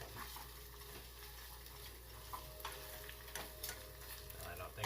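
Onion rings sizzle in shallow frying oil in a pan while a metal spoon stirs and pushes them down, giving a steady hiss with a few scraping clinks.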